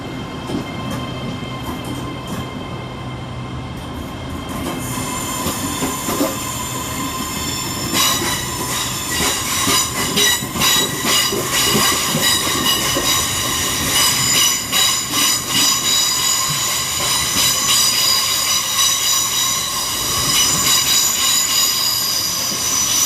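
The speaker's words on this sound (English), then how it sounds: "800 310, working the 1628 Great Western Railway service to Taunton" A Great Western Railway class 800 bi-mode train, unit 800 310, at London Paddington, rumbling and hissing loudly close by with squealing wheels and rattling cars building after the first few seconds and continuing throughout.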